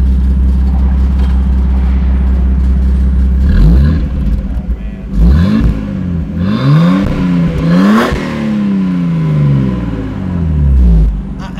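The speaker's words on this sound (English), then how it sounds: "Go ahead and give it some gas" A Nismo R32 Nissan Skyline engine revved repeatedly: a steady idle rumble, then several sharp throttle blips rising and falling in pitch, close and loud, with the engine settling back between revs.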